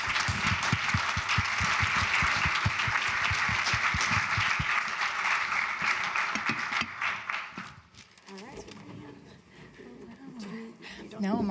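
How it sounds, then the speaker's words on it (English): Conference audience applauding after a panel discussion at an annual leaders plenary, a dense steady clapping that holds for several seconds before thinning out, with voices and room noise following. "Let's all give them a round of applause."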